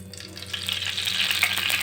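Oil frying and sizzling in a pan while peanuts are roasted for chutney, a close crackling hiss that grows louder and busier, with faint stirring and no talk.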